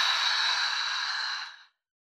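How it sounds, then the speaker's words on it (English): A single long breath let out through the mouth during a guided meditation, a soft airy hiss that holds steady for over a second and then fades to silence. "in through your nose and let it all go through your mouth"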